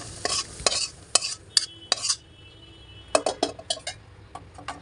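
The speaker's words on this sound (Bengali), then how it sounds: "এখন এই আলুগুলোকে বুটের সাথে খুব ভালো করে মিশিয়ে প্রায় 5 মিনিটের মতো অল্প আঁচ দিয়ে তারপর রান্না করব" A spatula stirs fried potatoes into chickpeas in a pan, a series of sharp scraping and clinking strokes in irregular bursts over a faint sizzle, close and fairly quiet.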